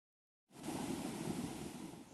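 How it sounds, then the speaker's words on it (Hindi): Swollen rivers and floodwater after heavy rain in Kota, Rajasthan: a sudden, steady roar of rushing water starts after a brief silence and continues loud and broadband. "उसके बाद नदी नाले उफान पर हैं।"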